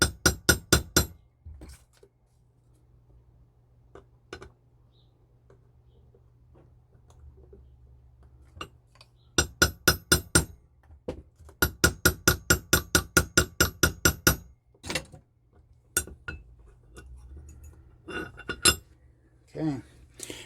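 Setting a jewelry rivet with a Euro tool: bursts of rapid, sharp metallic taps in quick series, close and crisp, separated by quiet pauses.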